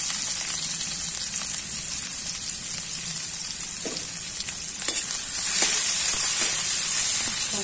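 Garlic and green chilies frying in a pan give a steady, close, hissing sizzle throughout, with occasional soft stirring scrapes and the crackle growing slightly stronger toward the end.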